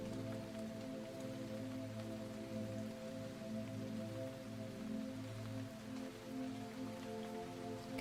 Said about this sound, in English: Nature can handle the rain very well.